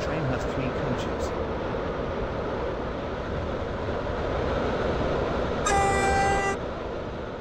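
A Class 730 train runs in the Roblox SCR game, a continuous loud rumbling rail drone with a brief horn blast near the end, under a spoken announcement.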